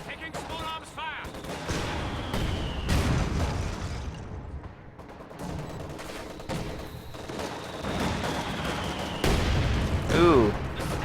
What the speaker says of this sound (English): Taking small arms fire.